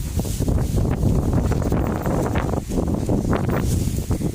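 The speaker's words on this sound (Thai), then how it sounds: "ลมแรงนะคะ" Strong wind buffeting the microphone outdoors on a cold-season day, a loud, uneven roar with gusts rising and falling throughout and no speech.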